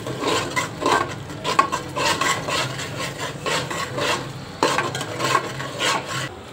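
A spoon scrapes and stirs chicken biryani in a home kitchen pot, giving repeated close rasping strokes in an uneven rhythm with soft metallic scraping and no talking.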